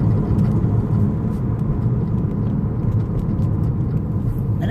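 A 2016 Porsche Cayman under way, with a low steady engine and road rumble filling the cabin, plus faint intermittent ticks and clicks.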